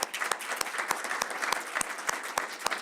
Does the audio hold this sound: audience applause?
yes